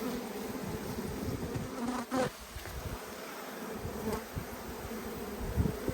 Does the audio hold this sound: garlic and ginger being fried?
no